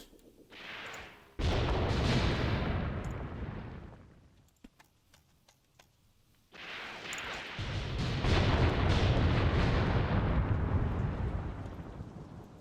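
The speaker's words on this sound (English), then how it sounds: "let's get these guns into action" Artillery guns fire in the Graviteam Tactics war game, with two heavy, close booms that roll out into long rumbling decays, separated by a quieter gap with faint sharper cracks.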